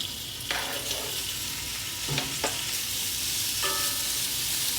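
About a pound of chopped thick-cut bacon sizzles steadily in a skillet for a country-style breakfast, a constant frying hiss with a few scrapes and clinks of a utensil.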